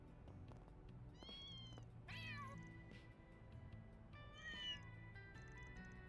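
Several cats meow in a video game scene set in a city from Trails Through Daybreak 2, a sequence of separate calls rising and falling over a steady background music bed, with no speech.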